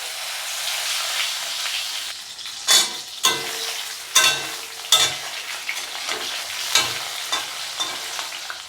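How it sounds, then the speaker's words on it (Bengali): Sliced eggplant fries in hot oil with a steady close sizzle and hiss, broken by several sharp scraping knocks as a spatula stirs the pieces in the pan, no talking. "এখন আমরা এই তেলের মধ্যে দিয়ে দেব বেগুন।"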